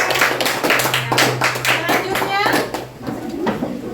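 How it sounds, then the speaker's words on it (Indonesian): Children in an Indonesian classroom clap together for a presenting group, a dense burst of hand claps lasting several seconds, loud and close, with a steady hum and scattered young voices mixed in. "Beri tepuk tangan untuk kelompok Sumatera."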